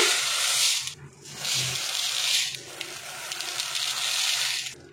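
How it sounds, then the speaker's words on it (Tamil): Basmati rice is swished and rinsed in water, giving splashy, sloshing bursts close to the microphone with a short pause in between and a continuous watery wash after it, with no talking. "இப்போ இந்த ரைஸை நல்லா அலசி எடுத்தாலே போதும்"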